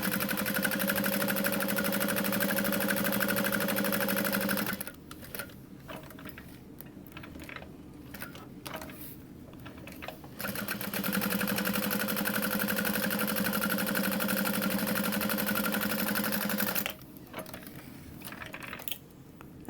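A sewing machine top-stitches a leather convertible backpack, its motor humming steadily in two long runs separated by a stretch of quieter mechanical clicking and handling, ending with a shorter burst.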